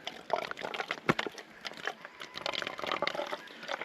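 Water pours in uneven splashes and trickles through a freshly cleaned trail water filter, faint and close, with small drips and sloshes coming and going.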